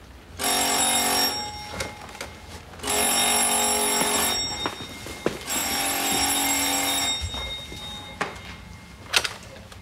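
A telephone rings in a hotel room, three long loud electronic bell bursts separated by short pauses, close and clear, followed by a few small knocks.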